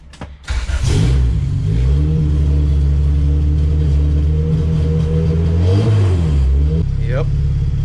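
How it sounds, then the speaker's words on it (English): A turbocharged Honda Civic Si with a swapped B18C1 engine idles close by after starting, holding a steady, even rumble throughout with a couple of brief revs blipping above it. "Literally just having it sit here and idle."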